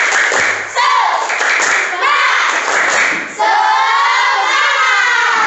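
A middle group of students in a classroom performs a rhythmic spirit clap, with sharp clapping bursts mixed with loud, overlapping children's voices chanting and shouting.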